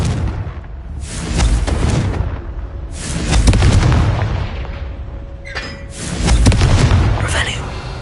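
Repeated Confringo fire spell blasts in Hogwarts Legacy, booming explosive bursts landing at intervals of a few seconds, loud and close, with game effects and a voice between them.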